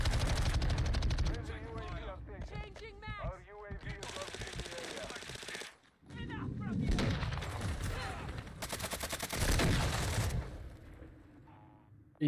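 Light machine gun fire in a first-person shooter video game, rapid bursts of automatic gunfire with loud shot clusters and pauses, mixed with players talking over game sounds.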